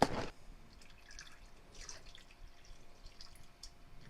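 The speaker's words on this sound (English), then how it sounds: "Now we will be adding milk. I'm using almond milk" Almond milk is poured into a pot for a pumpkin spice latte: a sharp knock at the start, then a faint, soft trickle and drip of liquid that continues quietly throughout.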